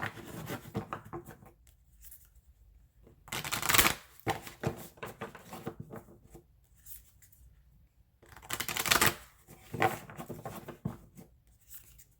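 Tarot cards shuffled by hand in two bursts of rapid riffling and sliding, close and fairly soft, separated by quieter pauses with light handling.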